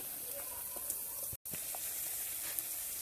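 Prawns sizzle in a hot pan with spices while cooked with taro, a steady close frying hiss with a few soft stirring ticks and a brief dropout midway.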